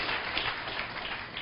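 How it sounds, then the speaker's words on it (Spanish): A church congregation applauding, a dense, steady wash of many hands clapping together throughout, fairly loud and filling the room, with no voices over it. "¿Cuántos le dan un aplauso al Señor?"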